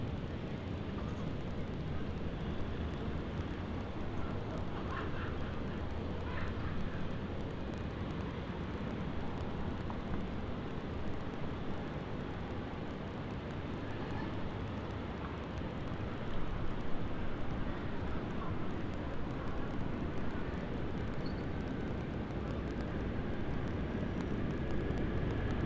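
An airliner beginning its takeoff roll at Sydney Airport at night, a steady broad roar of jet engines with a slight rise partway through, continuous and fairly distant.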